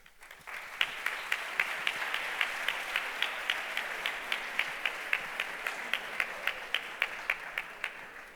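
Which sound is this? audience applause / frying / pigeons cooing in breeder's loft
audience applause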